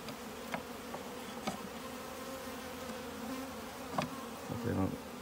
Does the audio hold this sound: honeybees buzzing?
yes